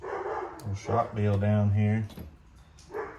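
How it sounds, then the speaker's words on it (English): A dog barks a few times in the background while someone talks over it at close range. "sorry about the dogs barking too."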